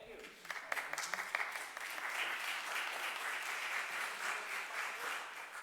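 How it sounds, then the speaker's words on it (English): A congregation applauds in a church during an organ and HVAC dedication service, beginning with a few scattered claps that quickly swell into steady, sustained applause filling the room. "So we have some applause for the organ and Oliver and for Desco and the HVAC system"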